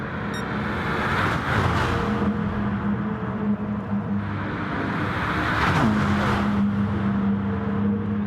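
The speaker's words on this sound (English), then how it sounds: "Three cars battling out for the lead right now" Several race cars battling for the lead in a Gran Turismo online touring series race, engines droning steadily with rising and falling pitch as cars jostle side by side, one engine note climbing sharply near the end.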